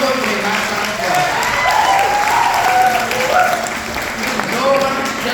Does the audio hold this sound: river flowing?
no